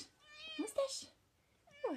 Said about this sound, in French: il y a le chat là qui vient voir